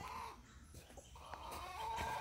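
A large rooster clucks in a few short calls close by on a farm, with faint background noise and no talking.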